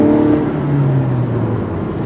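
Lexus NX300 F Sport SUV accelerating hard out of a turn on a winding road, a steady loud engine drone with a rising tone heard from inside, no talking.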